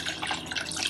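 Clean drinking water is poured into a container while preparing an organic neem hand wash: a steady, close splashing pour runs throughout the short moment.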